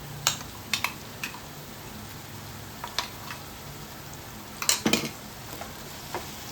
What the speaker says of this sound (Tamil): நல்லா வதக்கிக்கோங்க. ஒரு 2-3 மினிட்ஸ் நல்லா வதக்கிக்கோங்க.